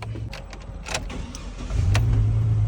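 A car engine cranks and catches in cold weather, a low rumble swelling into a steady idle hum after some muffled clicks and interior rustling.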